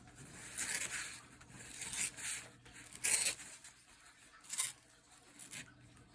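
Paper torn by hand while folding an origami crane, several soft ripping and rustling bursts close by, quiet between them.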